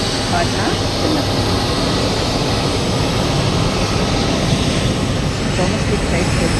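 A steady, loud engine roar from an airplane at Bangalore airport fills the whole stretch as a dense, unbroken wash of noise without clear pauses.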